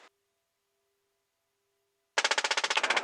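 A GAU-21 door machine gun on a UH-1Y Huey helicopter fires a loud, rapid burst of evenly spaced shots close by, after a near-silent stretch.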